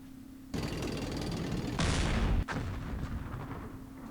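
Gunfire in a Middle East wargame, a sustained burst of rolling shots that swells louder midway, cuts off sharply, then continues as a steadier crackle, with no talk over it.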